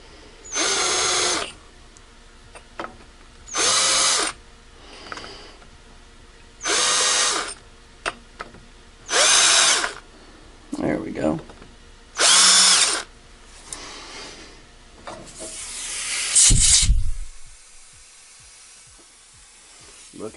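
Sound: drill milling an AR lower receiver for tensioner screw

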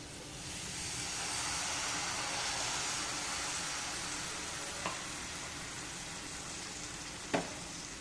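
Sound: water added to gooseberry pickle sizzling in the pan

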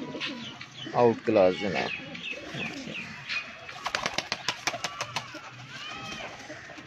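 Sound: pigeons cooing and flapping wings

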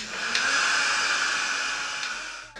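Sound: small eyelash fan blowing to dry the face

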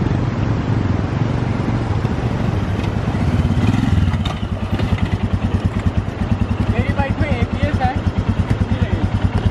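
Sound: Royal Enfield Himalayan motorcycle riding and braking test

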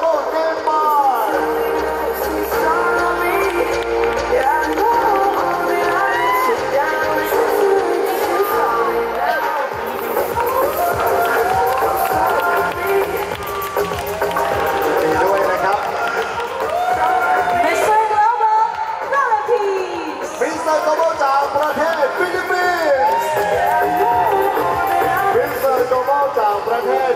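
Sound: audience applause and cheering for Mister Global Nepal

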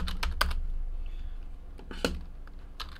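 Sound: typing on a computer keyboard

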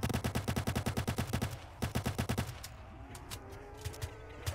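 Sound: gunfire in the video game ROBLOX

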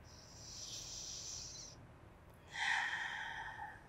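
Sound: slow breathing in and out during Pilates

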